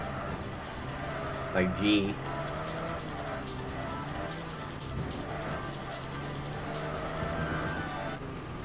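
Racing cars in TXR Zero drone along with a steady engine hum, the pitch rising and falling with gear changes and a brief squeal near the start, while a player talks over the game.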